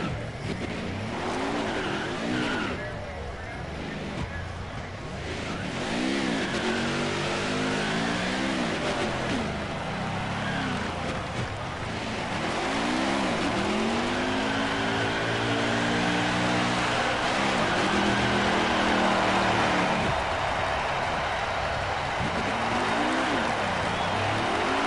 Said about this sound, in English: Who here likes burnouts and donuts?